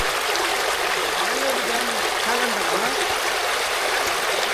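A loud, steady rush of flowing water at Katcharam falls, a close and continuous broadband roar, with a faint voice briefly audible under it.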